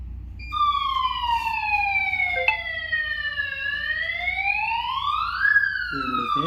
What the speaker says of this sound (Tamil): அலாரம் ட்ரிகர் ஆகி வந்து பார்த்திங்கன்னா ஹூட்ரும் சவுண்ட் அடிக்கும்